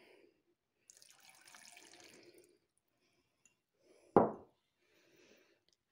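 Half a glass of water poured while making taramosalata, a soft trickle followed by one brief, sharper splash into the mixture, close and fairly quiet.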